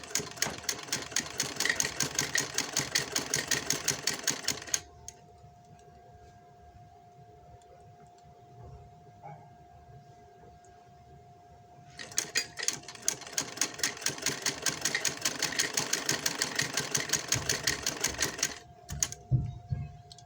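A sewing machine stitches close along the edge of a zipper in two loud runs of rapid, even needle clatter separated by a quiet pause of several seconds. No voices are heard.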